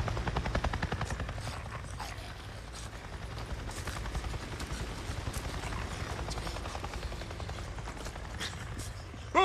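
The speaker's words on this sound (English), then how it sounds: "I just saw a goddamn chopper! A chopper? What are you talking about? A NERO chopper! It just buzzed right over me" Military NERO helicopter from the game Days Gone passing overhead, a steady loud rotor chop and engine rumble that fills the whole stretch with no voices.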